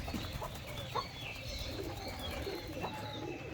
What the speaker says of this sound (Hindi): बिना दुम के प्यारा शराजी जो कि अपनी फ़ीमेल पे लाइनें मार रहा है